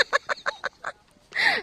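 Chickens being chased by a child give a rapid series of short clucks followed by a louder, drawn-out squawk, close and clear with no talking.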